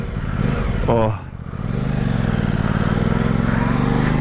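A 2021 Aprilia Tuono 660 middleweight naked motorcycle's V-twin engine runs close by with a steady, throbbing idle, briefly interrupted by a man's short exclamation.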